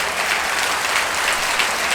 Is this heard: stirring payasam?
no